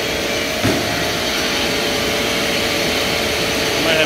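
The motor of a 32-year-old Cambridge commercial HVAC unit with worn bearings and a slipping drive runs with a loud, steady broadband whir and a faint hum, without pause.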